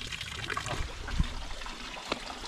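Spring-fed water trickles into a tilapia and crayfish fish pond, a soft, steady dribble with faint gurgles, low in level and heard alone without voices.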